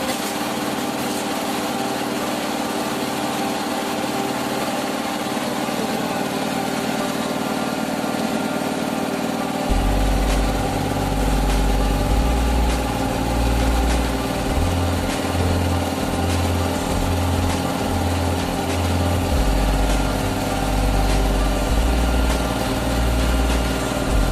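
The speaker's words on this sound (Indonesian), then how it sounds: "mesin penggilingan daging" A meat grinding machine runs inside a mill with a steady mechanical motor drone that turns noticeably louder and heavier about halfway through, with no voices.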